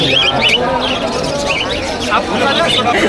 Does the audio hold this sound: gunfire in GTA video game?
no